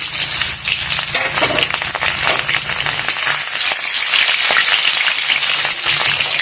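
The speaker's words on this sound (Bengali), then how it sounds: "এখানে আছে শুকনো লঙ্কা আর জিরা ফোড়ন দিয়ে দিলাম, আর দিয়ে দেবো তেজপাতা, আর দিয়ে দেবো পেঁয়াজ কুচি" Dried red chillies, cumin seeds, bay leaf and chopped onion fry in very hot, smoking oil for a mutton dish, a loud close sizzle and crackle with occasional stirring throughout.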